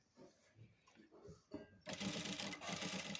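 A sewing machine stitches along a blouse during piping work, a dense steady mechanical whirr that starts loud near the middle and runs continuously, following quieter moments with a voice talking.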